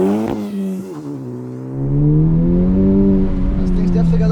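A 2021 Honda Civic Type R accelerates hard on a performance test run, its engine note climbing in pitch and loudness after a short pause, heard from inside the car with a voice briefly under it.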